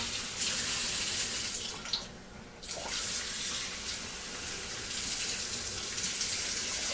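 Tap water runs into a saucepan in a home kitchen, a bright steady splashing stream that briefly drops off and then resumes at full flow, no voices over it.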